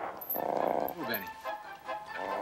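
A pet dog barks and whimpers close by, with short yips and whines mixed in, while people talk over it.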